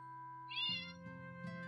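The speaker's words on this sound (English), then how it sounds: "All I hear is my cat meowing in the background." A cat meows in the background of a game-dialogue scene, with one drawn-out, rising then falling meow partway through and a faint second call near the end, both mixed under steady music.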